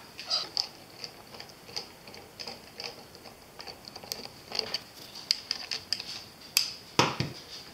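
A captured action screw on a Ruger 10/22 rifle is loosened, giving a run of small close metallic ticks and creaks in an uneven rhythm, growing busier toward the end.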